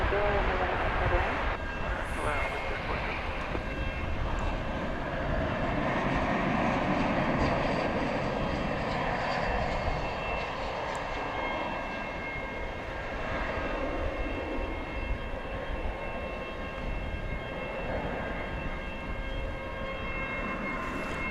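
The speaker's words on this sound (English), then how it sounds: "Flight 1832 from Denver arriving there, an Airbus A321" An American Airlines Airbus A321 arriving at DFW Airport from Denver, its jet engines a steady, distant broad roar with a whining tone, sustained throughout.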